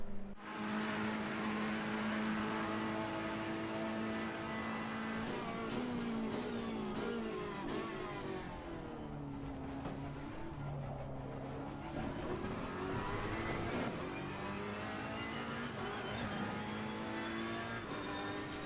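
A race car engine in Assetto Corsa Competizione, driven on track, revving through the gears with rising and falling pitch, dipping on braking and climbing again on acceleration, steady and close throughout.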